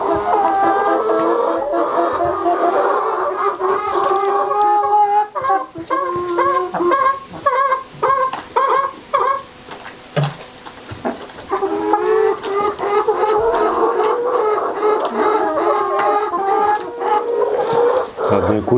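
Chickens clucking steadily and close by, with busy overlapping calls running almost the whole time, in a small backyard flock that is examining a tail feather plucked from one of the hens.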